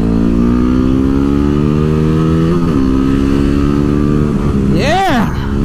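A Yamaha WR250R motorcycle engine runs loud and close, holding a steady drone before rising and falling in a sharp rev near the end.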